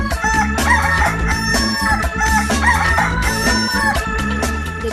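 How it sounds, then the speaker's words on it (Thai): A rooster crows loudly and repeatedly in a thick, continuous stretch, close to the listener with no talking. "เด็กๆลองทายสิคะว่าเสียงอะไร Chicken Chicken ไก่"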